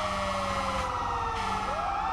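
Several fire engine sirens wail together in a firefighting video game, loud and close, with overlapping pitch sweeps rising and falling continuously and no talk over them.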